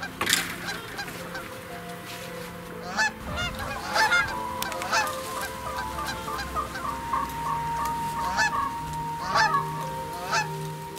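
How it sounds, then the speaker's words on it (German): Geese honk repeatedly in a busy flock, with several loud, overlapping calls rising above a steady background hum. "Da waren also die Gänse."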